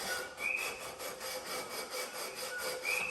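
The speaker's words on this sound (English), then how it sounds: "we get our leveling beam and we sand it down" Back-and-forth sanding strokes of a leveling beam worked along a guitar neck, a steady rhythmic rasping scrub repeating roughly every half second, close up with no voices.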